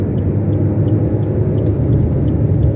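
A car engine rumbles steadily and close on a highway between Palembang and Prabumulih as it overtakes a truck, a loud continuous drone with no talk.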